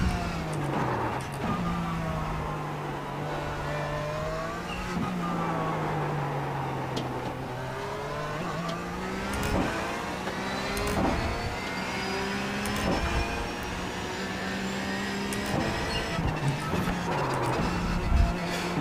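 A race car engine drones steadily in the iRacing sim, revs rising and falling through gear changes with occasional shifts and bumps, continuous and moderately loud with no talk.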